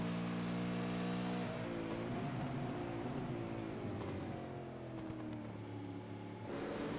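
An onboard race car engine from a Supercars sim racing event screams steadily and sweeps through revs, with pitch dips as it downshifts under braking. It runs loud and continuous throughout with no talk.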